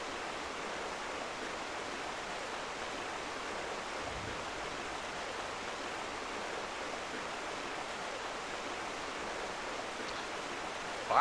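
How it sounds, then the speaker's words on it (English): A steady, dense rush of falling water from a waterfall in a video game, constant and fairly loud with no breaks or voices over it. "I can't hear you over this waterfall."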